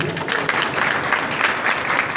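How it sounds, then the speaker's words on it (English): Steady audience applause fills the space at a bank branch opening in a shopping mall, a moderate, even patter of many hands clapping. "Let's give a clap to Asmali."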